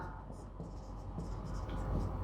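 Pen scratching out an answer to a probability exercise in a math lesson: faint, continuous close writing strokes over a noisy low rumble, brief and without clear gaps.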